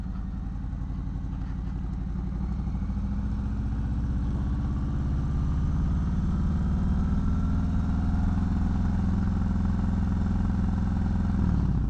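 Harley-Davidson Softail motorcycle engine running steadily and loud up close, a low rumbling throb holding through the whole stretch as another bike goes by on a street of old houses.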